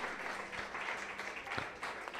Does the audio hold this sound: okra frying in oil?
no